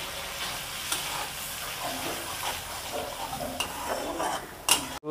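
A garlic, mustard, cumin and chili paste fries in a pan with a little added water, giving a close, steady sputtering sizzle with occasional crackles and light scraping.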